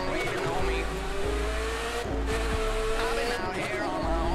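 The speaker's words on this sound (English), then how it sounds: "200 miles per hour car." A fast car roaring at high speed in the video game The Crew 2, with a dense continuous engine drone and road rush that swells and dips as it drives, loud throughout.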